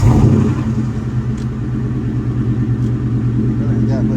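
A 2003 Ford Mustang engine idles with a steady low rumble after a cold start, loud and close throughout, with faint clinks in the background.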